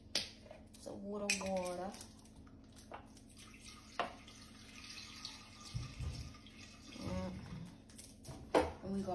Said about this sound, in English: So add the water.